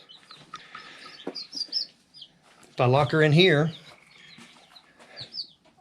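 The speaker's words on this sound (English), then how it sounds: "I can hear Mama clucking over here" A broody mother hen shut inside a chicken coop clucks in short, soft bursts near and far, broken by a louder harmonic squawk in the middle, while a person talks over parts of it.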